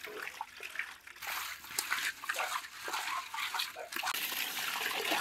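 Running water splashes and trickles in bursts as fish is rinsed by hand for a Sri Lankan village mango fish curry, close and moderately loud with uneven gushes.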